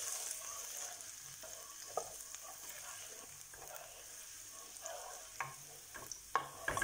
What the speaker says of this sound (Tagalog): Haluin lang siya.